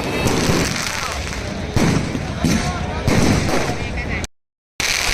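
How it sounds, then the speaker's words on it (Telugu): Dense firecrackers burst at the Lanka Dahanam festival in Mangamaripeta, Vizag, with loud, rapid crackling volleys and heavier booms rolling on for several seconds, then a brief silence before the bursts resume. "ఎండింగ్లో అయితే ఇంకా చాలా క్రాకర్స్ అయితే కాల్చారండి"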